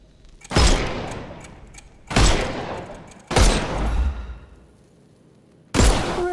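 Gunfire in the video game Sherlock Holmes Chapter One: four loud, sharp shots with booming tails, spaced about a second or more apart, heard alone with no talk.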